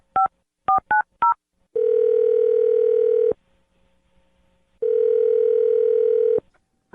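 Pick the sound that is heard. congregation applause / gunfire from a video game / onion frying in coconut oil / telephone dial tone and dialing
telephone dial tone and dialing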